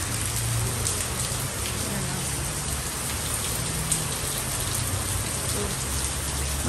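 Heavy rain pours steadily outdoors during a downpour, a dense, continuous hiss at constant loudness from start to finish.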